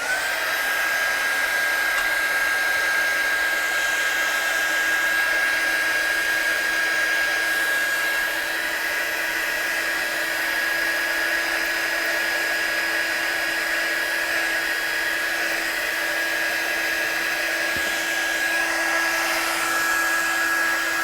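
Heat tool blowing hot air to dry watercolour on a stamped Christmas card, a loud, steady, continuous whine and rush of air that holds unchanged throughout with no talking.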